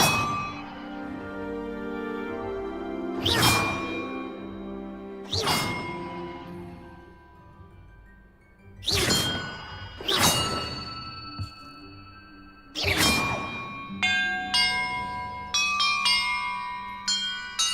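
Bells rung in sequence to solve a puzzle in Hogwarts Legacy: about six loud, ringing strikes spaced a few seconds apart, each decaying slowly, followed by a bright cascade of chimes.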